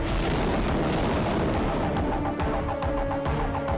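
Heavy, booming gunfire from a film teaser thunders continuously, with dense overlapping blasts and a few sharper cracks standing out over a loud, sustained rumble.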